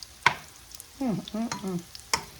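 A sharp clack of a utensil against a pan, then several short tonal scrapes and shuffles as cornbread is flipped in a hot skillet, with a faint sizzle underneath.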